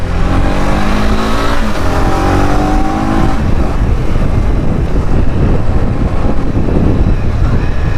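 A light 143 kg motorcycle revs hard at high RPM, its exhaust roaring with a rising engine tone that gives way to rough, gritty rumble and wind buffeting close to the microphone.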